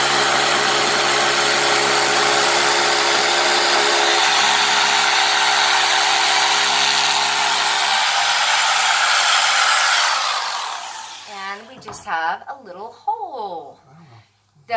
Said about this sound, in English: He's going to hammer drill in.